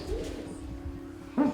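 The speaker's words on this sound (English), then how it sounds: "Males hoot low and slow, females hoot high and fast." Low, soft great horned owl hoots carry from a distance, a steady low male tone followed by a brief higher female call near the end.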